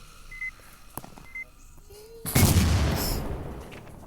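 A few sharp video-game clicks and small beeps, then a sudden loud explosion erupts and its noisy roar slowly decays over the next seconds.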